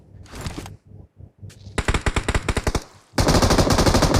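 Video game gunfire in PUBG Mobile: a burst of shots, a short gap, then rapid evenly spaced automatic fire and a final loud, dense volley, close and alone.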